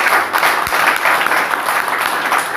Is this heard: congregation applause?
yes